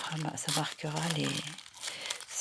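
A sheet of transparent paper is folded and creased, giving close crinkling and rustling under a voice speaking French.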